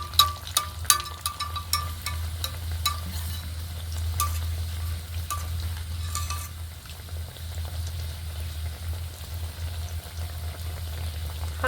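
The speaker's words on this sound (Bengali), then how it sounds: "হালকা করে যখন ভাজা হবে তখন একটা একটা করে উল্টে দিতে হবে" Puri-style khaja pastries fry in a pan of oil, with sharp crackles and pops early on settling into a steady bubbling sizzle over a low hum, with no talk.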